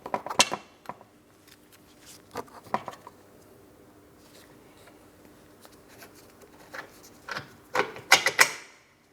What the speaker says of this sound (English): I'm using my wrench up along the top.